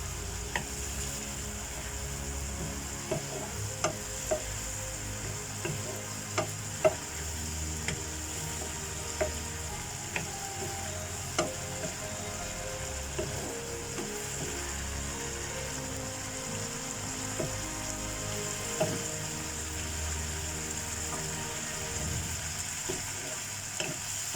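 Prawns with black pepper and Italian herbs stirred in a pan for butter garlic prawns, a low steady frying sizzle under faint scraping and clicking of the utensil, no voices.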